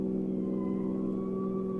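A car engine sound effect in an old radio drama, a steady droning motor hum with slowly shifting pitch as if cruising at speed, close and continuous without speech.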